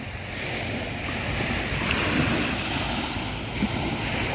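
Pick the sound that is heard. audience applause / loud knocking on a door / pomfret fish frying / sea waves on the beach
sea waves on the beach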